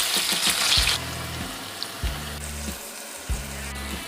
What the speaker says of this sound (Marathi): कांदा तळून घेऊ